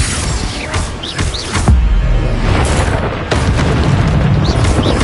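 A Bombarda spell blast in a Harry Potter video game, a heavy booming explosion with crackling debris, close and loud, followed by further rumbling impacts and blasts through the rest of the moment.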